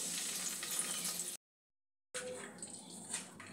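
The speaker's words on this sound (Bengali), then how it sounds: "কড়াতে আমি সরষের তেল দিয়ে দিয়েছি। এখানে ফোড়ন হিসাবে নিয়েছি 1 চিমটে হিং, একটা শুকনো লঙ্কা, 2টো তেজপাতা।" Asafoetida, a dried chilli and bay leaves sizzle in hot mustard oil in a kadai, a steady close hiss that cuts out briefly and then resumes.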